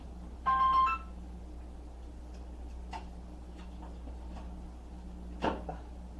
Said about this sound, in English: My phone like to ring at the wrong time.